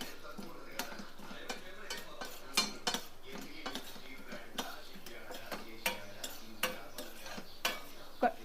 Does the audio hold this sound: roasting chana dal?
yes